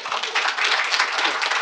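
Dense applause from an audience saluting a congressman, a steady wash of many hands clapping close by for the whole stretch without a break.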